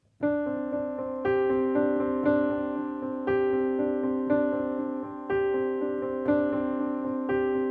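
Piano notes repeating a short three-note figure at a steady moderate pace, clear and close, with a sustained low tone underneath and no talking.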